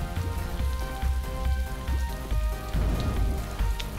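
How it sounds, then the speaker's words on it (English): Rain patters steadily in the platform video game Electronic Super Joy, a close, continuous shower of drops with a faint tonal music layer beneath. "And you can hear the rain, right? Why is the rain making noise in the game?"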